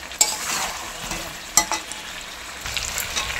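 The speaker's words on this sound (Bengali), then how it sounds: "আলুগুলো দিয়ে আবার 5 থেকে 7 মিনিট কষিয়ে নেব" Potatoes and meat stir-fried in a pan, with a steady close sizzle and a few sharp scraping stirs against the pan.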